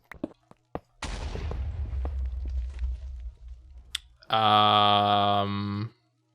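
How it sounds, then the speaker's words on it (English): A blast goes off inside the modded Minecraft 1.12.2 world of Seablock: a sharp burst opens into a long rumbling, crackling roll lasting several seconds, followed by a loud sustained tonal hum. A few earlier clicks come before it, and no one speaks. "Something exploded."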